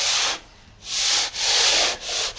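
A sandpaper block rubs over a foam wing in four long, loud, close strokes, each a dry hiss with brief pauses between passes, and no voices.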